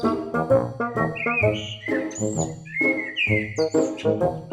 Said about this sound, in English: I got to pet a bird.